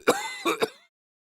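A voice acts out an old man's rough cough, with three quick hacking bursts close to the mic and then silence.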